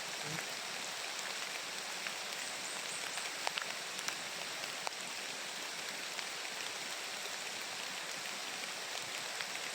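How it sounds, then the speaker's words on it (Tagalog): Heavy rain pours down in a continuous hiss, with scattered louder drops striking nearby, and no voices. "Grabe kung ulan na eh."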